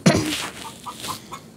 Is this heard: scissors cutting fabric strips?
no